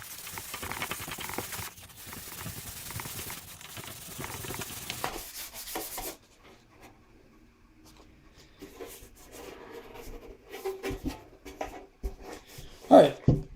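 A turntable dust cover is hand sanded with 400 grit sandpaper in repeated close scratchy rubbing strokes, then a quieter stretch with softer intermittent scrapes and a sharp knock near the end.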